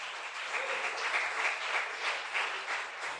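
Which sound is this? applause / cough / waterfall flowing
applause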